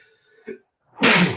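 A single sharp human sneeze bursts out loud and close, preceded by a brief quiet inhale and a soft vocal catch.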